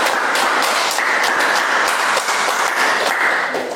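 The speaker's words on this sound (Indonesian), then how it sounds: "Tepuk tangan untuk teman-teman karena sudah presentasi dengan baik." A classroom of students claps for classmates who have just finished a group presentation, a dense, steady burst of applause that stays loud and close throughout with no talking.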